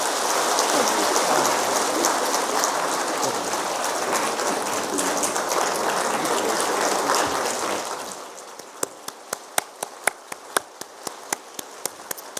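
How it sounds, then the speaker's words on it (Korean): Church congregation at a Sunday daytime worship service breaking into warm applause: a dense, loud wash of clapping for about eight seconds that then thins to a few scattered, separate claps. "뜨거운 박수로 우리 축하하십시다"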